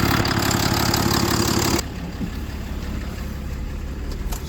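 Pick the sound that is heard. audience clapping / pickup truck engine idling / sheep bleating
pickup truck engine idling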